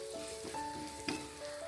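Chilli powder sizzles in hot oil with a soft, steady crackle close by, and a brief stir or scrape is heard partway through.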